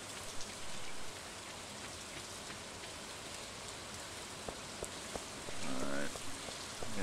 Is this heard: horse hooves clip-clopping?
no